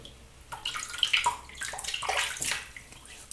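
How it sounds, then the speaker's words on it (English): Water dripping from a tap onto the face of a shaving brush loaded with soap, close and fairly quiet, a few irregular splashes and trickles over about three seconds with no talking. "let me just drip a bit of water onto the face of the brush"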